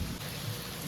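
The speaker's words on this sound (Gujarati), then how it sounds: "વરસાદ આવે છે." Rain falling outdoors near a temple, a dense steady wash of drops with a low rumbling undertone, fairly faint and without voices.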